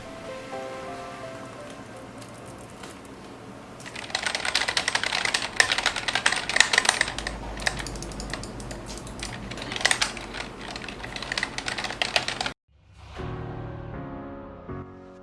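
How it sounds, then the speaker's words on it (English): Keys clatter in fast, dense bursts on a Logitech K380 and a Cooler Master keyboard, with mouse clicks mixed in. A quieter stretch comes first, then busy typing, and sparser clicking follows after a sudden drop. "Here is a test between the Logitech and the Cooler Master gaming mouse and keyboard"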